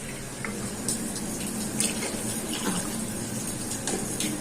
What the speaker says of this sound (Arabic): هديها كمان كوبايه ميه